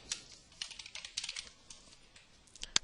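Someone types a class name on a computer keyboard in a C# app tutorial, a quiet, irregular run of key clicks in short bursts, a bit busier in the middle, with no talk.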